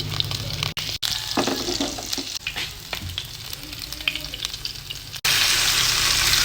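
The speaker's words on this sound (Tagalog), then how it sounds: "magigisa na tayo. Lagyan na natin yung bawang, garlic. After, onion" Garlic and onion sauté in a hot pan for ginisang talong, a steady close sizzle with stirring scrapes and brief cutoffs, then a louder, fuller hiss as the frying intensifies.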